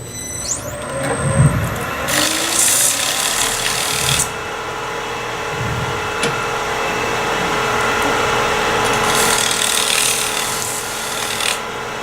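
Abrasive rasping of 80 grit sandpaper glued to a plywood stick rubbing over a turned wooden vessel, steady close strokes in several bursts with no talking.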